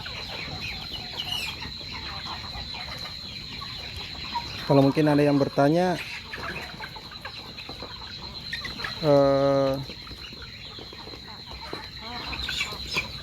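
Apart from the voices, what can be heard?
free-range chickens clucking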